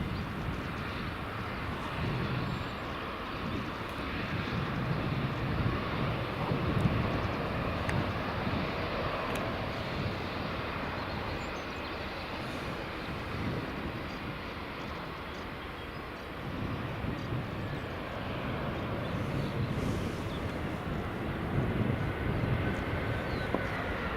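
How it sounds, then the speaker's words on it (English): An airliner on the Belfast to Edinburgh route comes in to land at Edinburgh Airport, its engines a broad, steady roar that holds at a moderate level throughout. "Next up, we've got Belfast to Edinburgh flight just coming into land."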